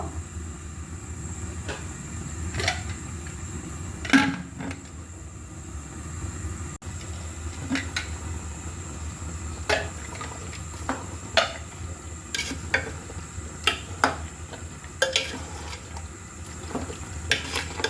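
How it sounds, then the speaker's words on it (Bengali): Chicken (local country hen) frying in mustard oil is stirred with a utensil, giving scattered sharp scrapes and clinks against the pan over a low, steady cooking hiss, with the strikes growing more frequent toward the end. "ঢাকনা লাগানোর আগেই কিন্তু ভালো করে একটু কষিয়ে নিচ্ছি"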